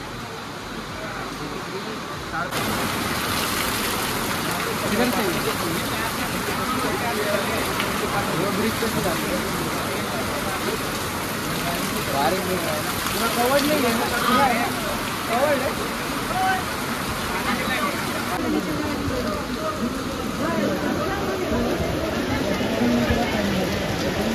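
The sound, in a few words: heavy unexpected rain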